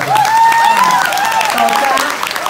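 A crowd applauds after a speech on passing down Hakka culture, with dense clapping running the full length while a voice speaks over it.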